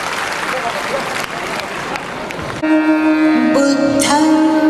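Audience applause welcoming guests on stage at a Buddhist gathering, a dense wash of clapping for about two and a half seconds before it gives way to loud music with sustained tones.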